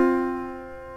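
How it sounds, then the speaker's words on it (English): A perfect fourth interval played as two sustained, bell-like tones sounding together, ringing clearly and close, then slowly fading over about a second with no voices. "Perfect fourth sounds like this."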